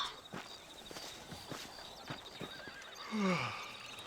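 Hooves clop in a steady walking rhythm, then a horse lets out a loud whinny near the end in Red Dead Redemption, quiet background otherwise.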